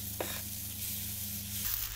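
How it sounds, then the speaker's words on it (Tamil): Dosa batter hits a hot tawa and is spread, a brief splash followed by a soft continuous sizzle and scraping hiss, close up over a low hum, with no voices. "இதில் வந்து நம்ம மிக்ஸ் பண்ணி வச்சுருக்க மாவை நம்ம ஊற்றிக்கலாம்."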